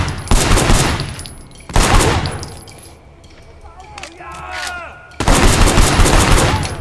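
Shotgun blasts in the video game Sleeping Dogs: three loud, heavy booms with long rumbling tails, separated by a quieter stretch with faint metallic tinkling.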